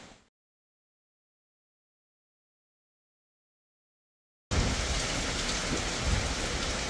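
Heavy rain pouring down outdoors during tree spraying work, cutting in abruptly after near silence as a loud, dense, steady roar.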